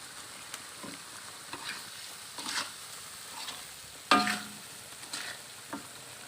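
Spices for beef rendang fry in a pan, giving a steady soft sizzle broken by intermittent scraping stirs, one sharper clatter midway, with no talking.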